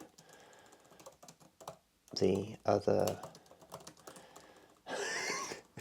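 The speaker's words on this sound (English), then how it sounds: "it's actually quite hard to write on this low profile keyboard" Fast typing on a low profile computer keyboard comes in short bursts of close key clatter, with a person talking quietly between the bursts.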